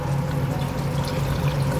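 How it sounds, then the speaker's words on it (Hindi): About two cups of water pour into a pot of Hyderabadi chicken curry, making a steady, close splashing gush that runs evenly from start to finish without talk. "2 कप पानी के मैंने डाल दिए हैं।"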